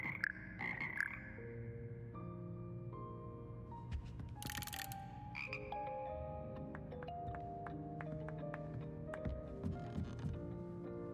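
Frogs croaking in the Hogwarts Legacy video game, a dense chorus of overlapping pitched calls and creaks that carries on steadily throughout, with a brief bright clicking burst partway through.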